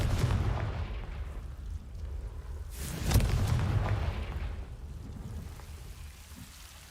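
A Confringo fire curse explosion in Hogwarts Legacy, a deep rumbling blast that swells around the middle with a crackling burst, then fades into a low, roaring tail over steady background rumble.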